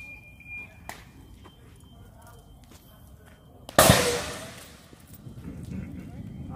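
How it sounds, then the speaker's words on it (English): A burning car's fuel tank bursting on a street in Telford, a sudden loud whooshing blast that decays over a second amid crackling fire, faint alarms and voices of people nearby. "Fuel tank's just gone on one of them."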